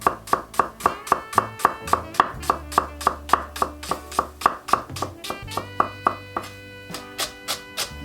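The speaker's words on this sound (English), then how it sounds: "fresh garlic chopped fine, onion thin slice" Knife chopping fresh garlic fine and thin-slicing onion on a board for a garden greens stir fry, a quick, even series of crisp close taps, about three per second, with no talk.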